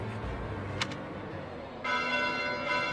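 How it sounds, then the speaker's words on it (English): Church bells ring at night in the video game Fire Emblem Three Houses, bright metallic tones sounding over a low ambient bed, with a louder, fuller peal entering partway through. "Bells? This late at night?"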